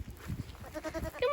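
A goat herd bleats on a farm, several overlapping calls building toward a louder, nearer bleat at the end, with soft shuffling beneath.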